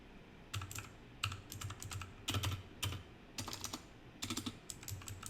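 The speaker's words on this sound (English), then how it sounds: "let me just type a little bit" Bursts of typing on a cheap mechanical keyboard with lazily lubed switches: clustered clacky keystrokes with a soft thocky low end, close and fairly quiet, separated by short pauses, with nobody speaking.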